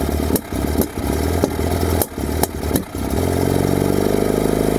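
Bedford Rascal engine running for the first time in six years with stale fuel in the carburetor, a loud close rough idle dipping and stumbling through several quick throttle blips before settling into a steadier, smoother run.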